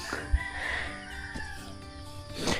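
Birds, including chickens, call in a corn field after a typhoon, with clucking and crowing-like cries carrying from a moderate distance over outdoor background noise.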